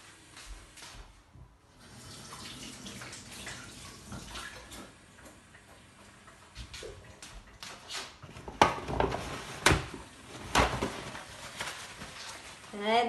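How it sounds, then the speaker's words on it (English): Tap water running in a home kitchen while hands are washed, a steady close splashing stream with clinks and handling noises, and someone talking over it. "just going to wash my hands again,"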